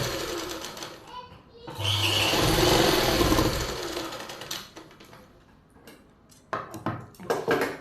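Sewing machine running a steady seam along the lining of palazzo pants in a boutique, close and loud for a couple of seconds, then stopping into clicks, handling noise and someone talking.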